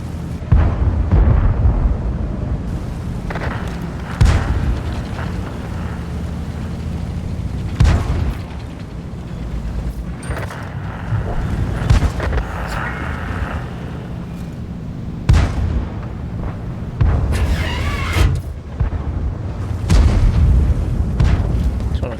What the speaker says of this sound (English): Just want to fire one shot this Tortoise, try to get them out of this position.